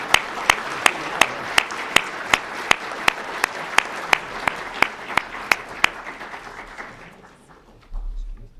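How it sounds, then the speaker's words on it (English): An audience at a Martin Luther King Jr. birthday celebration applauds a senator, a wash of clapping with one loud, evenly spaced clapper standing out near the mic, thinning and fading after about seven seconds. "Let's give the senator a big round of applause."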